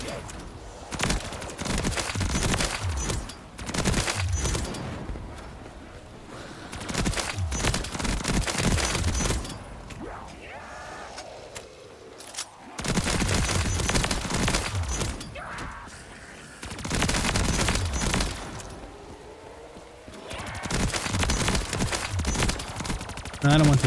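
Video game combat with explosions and gunfire, heavy bursts of rapid shots and booms in repeated loud waves, broken by short quieter gaps.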